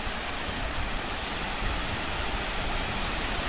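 A waterfall in the hills of Chiplun, near the Kaleshwari-Kanchani Devi temple, gives off a steady, dense roar of rushing water. It stays broad and unbroken for the whole few seconds.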